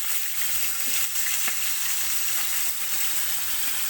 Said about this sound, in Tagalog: Ayan, piniprito.